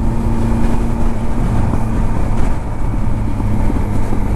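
Steady broadband road and engine rumble of a car cruising on a highway, with low tonal drone and continuous wind and tire noise at close range, no voices.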